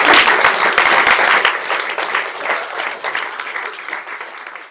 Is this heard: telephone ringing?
no